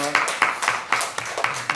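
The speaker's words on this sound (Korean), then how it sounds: "우리 하나님께 영광의 박수 올리겠습니다." A church congregation claps at a Thursday worship service, with about eight distinct, fairly rhythmic claps ringing out in a reverberant room, moderately loud and without talk over them.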